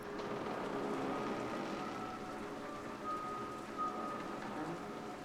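Sea ambience from the radio setting in the game State of Mind plays as a faint, continuous hissing wash with a thin tonal hum, quiet and steady with no voices.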